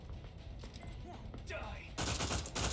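An enemy opens fire in Outer Worlds 2, with a dense burst of gunfire breaking out after a stretch of quieter game sounds and brief voices, loud and sustained to the end.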